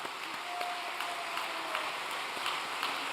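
Audience at a ceremony honouring young trainees clapping softly and continuously, a faint distant patter of many hands with no voices.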